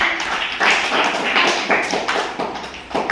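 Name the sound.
children clapping hands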